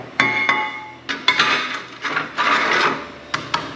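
Aggressive wood saw cutting aluminum trailer stock at 20 inches, heard as a string of sharp, rasping scrapes and metallic clinks in short bursts, fairly close.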